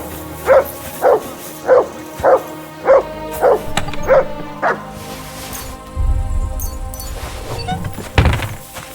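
A dog barks in Kingdom Come Deliverance 2, about seven evenly spaced, punchy woofs in a steady rhythm, followed by low rumbling thumps and background game ambience.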